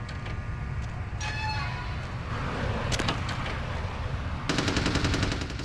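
Bursts of automatic gunfire ring out in Vampire: The Masquerade - Bloodlines, clustered rapid shots in two or three volleys over a continuous low background rumble, loud and fairly near.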